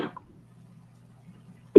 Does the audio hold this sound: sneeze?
yes